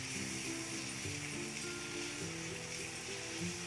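Onions browning in a pan for malai seekh biryani give off a steady sizzle and crackle, a continuous hiss layered over a low, sustained tonal hum.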